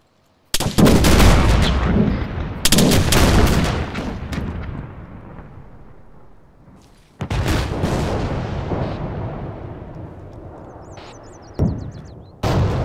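Heavy gunfire and cannon blasts in Arma 3, with a T-72 tank in the fight: loud booming shots at irregular intervals, each followed by a long rumbling decay, with a sharp final crack near the end.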